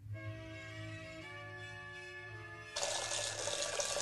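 Kitchen tap turned on while cooking a simple ramen dish, a steady rushing stream of water starting abruptly near the end after a humming, quiet room, loud and close with no talk.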